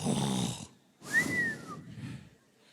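A preacher imitates Jonah snoring, giving a few loud, rough snore-like breaths with a whistling rise in the middle, each about half a second long and close to the microphone.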